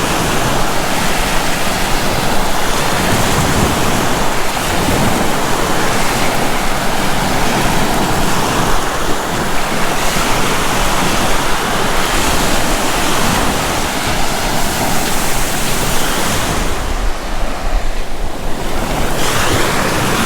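Rough surf after a week of stormy weather, crashing continuously onto a beach as a loud, dense roar of breaking waves with wind buffeting the microphone and no voices.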